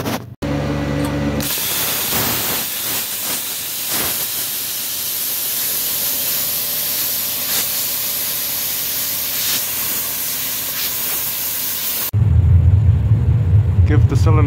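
Gas torch preheating a motorcycle engine cylinder ahead of bronze brazing a broken cooling fin, a steady roaring hiss that holds for about ten seconds, then drops away to a lower rumble.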